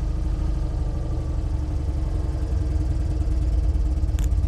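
An Invacar invalid carriage engine idles steadily while its clutch is being adjusted, giving a close, even, low mechanical throb that holds constant with a brief faint click near the end and no voices.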